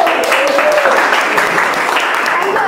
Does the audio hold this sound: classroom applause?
yes